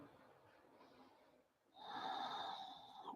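Audible breathing during an Ashtanga yoga pose, a quiet breath followed by a louder, drawn-out nasal inhale or snort-like rush of air, close and alone.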